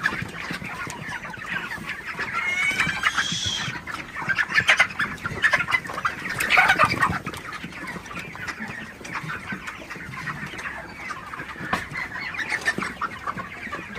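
A flock of broiler chickens clucks while eating feed, a steady murmur of overlapping clucks and soft calls with a few louder squawks rising from the crowded birds.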